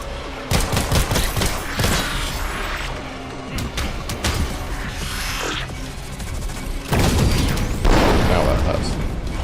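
Loud bursts of video game gunfire with crashing impacts and mechanical clatter in Beyond Hanwell, rapid shots in clusters over a dense noisy backdrop.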